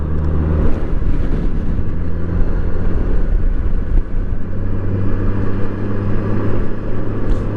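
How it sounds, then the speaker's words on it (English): Strong gusty wind buffets around a Honda Goldwing trike, a loud, continuous low rumble with no pauses and no talk. "You wouldn't believe this wind."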